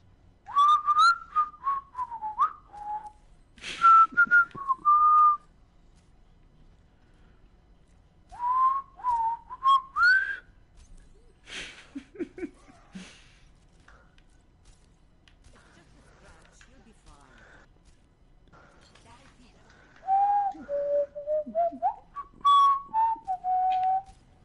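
A person whistles short melodic phrases in bursts with quiet gaps between them, close and clear, during a live Overwatch gaming session.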